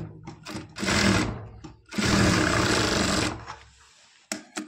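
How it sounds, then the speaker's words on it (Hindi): A sewing machine runs close and loud while stitching a lehenga blouse, in two sustained whirring runs separated by a short stop, then a few faint handling knocks, with no talking. "तो दोस्तों 2 इंच करीब हम इस पर सिलाई लगाएंगे"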